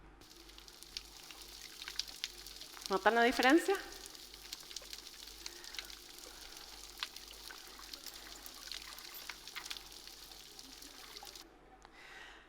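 Underwater ambience of a degraded coral reef: a faint, sparse crackle throughout, with one brief rising tonal sweep near the start and a voice speaking briefly over it.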